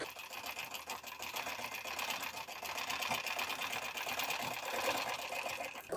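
A sewing machine runs steadily for the whole stretch, stitching a straight seam on blouse fabric. The motor hum is continuous, close and fairly loud, with no voices over it.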